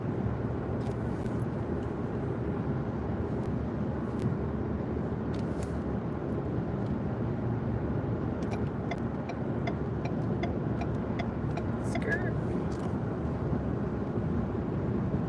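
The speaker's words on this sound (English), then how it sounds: "I'm driving my husband's vehicle today, not mine" A car, borrowed for the day, drives down a foggy road with a steady, loud engine and road rumble throughout, and occasional faint clicks ride on top.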